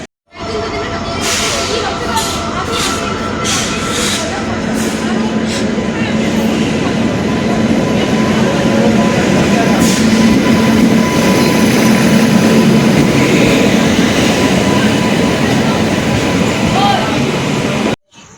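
Train at Santraji railway station at night, a steady loud rumble of rolling carriages with a low hum and scattered high squeals, continuous throughout, with faint voices in the background.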